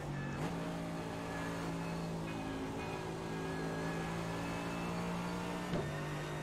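A GT3 race car in the iRacing game at Watkins Glen, a loud steady engine drone holding high revs with a gear change near the start and another near the end, no talking.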